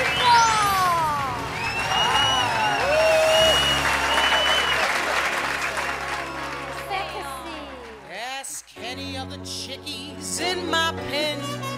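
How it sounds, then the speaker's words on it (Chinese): Studio audience applause greeting an international star guest on a Taiwanese variety show, a loud sustained wash of clapping and cheering with music and voices layered over it, fading out before a sung line begins. "让我们掌声欢迎国际巨星"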